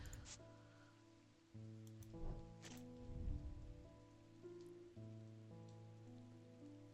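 Steady rain hisses in the video game Strange Antiquities, a soft, even patter running throughout beneath sustained background music tones.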